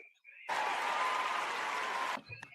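An audience breaks into clapping, a dense burst of many hands that starts abruptly, holds steady for under two seconds and then cuts off, with brief speech before and after.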